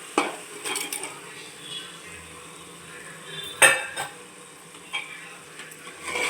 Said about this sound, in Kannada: ಇವಾಗ ಲಿವರ್ ಹಾಕ್ಕೊತಾ ಇದ್ದೀನಿ ನಾನು.